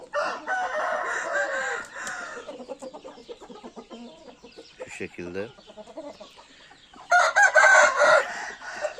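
Chickens cluck and a rooster crows in a home garden, the crowing loud and close near the start and end, with someone speaking briefly in between.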